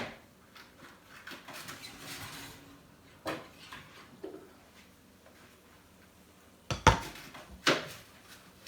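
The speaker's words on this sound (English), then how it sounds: "the 30 minutes is up, so we're going to get it out of the oven" A dish of homemade baked macaroni and cheese taken out of the oven: soft clinks and rattles of cookware, then a couple of sharper metallic clanks of the pan and oven rack near the end, close and fairly quiet.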